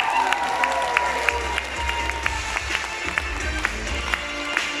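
Stormy applause from a concert audience at a palace of culture celebration, dense steady clapping filling the hall with a low crowd murmur, fairly loud and continuous throughout.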